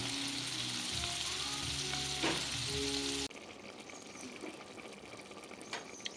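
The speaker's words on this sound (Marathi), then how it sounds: "हेचे प्रॉन्स फ्राय करूंक घायले आमकां." Prawns fry in a pan with a steady, close hissing sizzle that drops suddenly in loudness about halfway through, with no one speaking.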